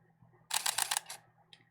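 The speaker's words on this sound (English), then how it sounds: "just by pushing the shutter button remotely" An Olympus camera shutter fires remotely in HDR mode. It sounds as a rapid burst of several crisp mechanical clicks lasting about half a second, then a single fainter click after a pause, close and alone over a quiet room.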